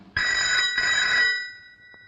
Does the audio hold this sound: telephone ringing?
yes